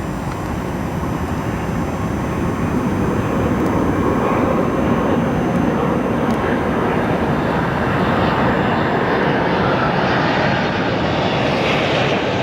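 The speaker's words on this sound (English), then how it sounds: "here comes our next arrival. What I believe is another Dreamliner." A Boeing 787 Dreamliner arrives at O'Hare International Airport, its jet engines producing a loud, sustained roar that swells and rushes broadly as the airliner passes close by, with no talk.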